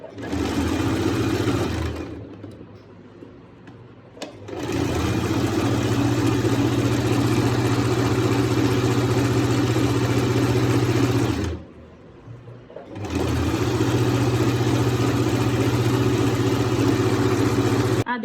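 A sewing machine stitches a salwar poncha (trouser cuff) in long, steady runs of rapid whirring, with two short pauses, loud and close with no talk.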